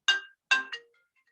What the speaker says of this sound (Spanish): discúlpenme, sonó el celular